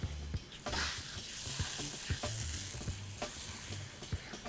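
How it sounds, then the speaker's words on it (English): Peppercorns going into a sizzling soy, rice wine vinegar and sugar sauce in a pan, with a loud continuous sizzle and stirring scrapes, close up. "Now lastly, we go in with our peppercorns."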